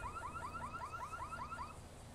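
A car alarm in the GTA video game sounds a rapid repeating chirping whoop for about two seconds, then cuts off, heard faintly under game background noise.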